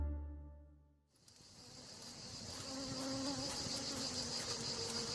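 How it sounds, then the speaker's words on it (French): A swarm of bees leaves its hive, first silent, then filling with a dense, continuous buzzing drone that swells and holds steady and close. "des abeilles s'apprêtaient à quitter leur ruche en bourdonnant"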